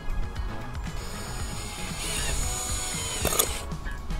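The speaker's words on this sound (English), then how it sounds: "I'm going to drill two holes here in the bottom of this pivot bracket" Power drill whirring at close range as it drills holes through a pivot bracket, a steady mechanical whine that rises in intensity midway, with clicks and knocks around it; no talking.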